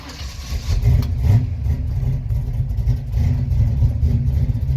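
A 1966 Ford Fairlane 500 two-door hardtop with a big lumpy cam, its engine turning over and catching into a deep, rumbling, uneven idle with small revs, loud and close.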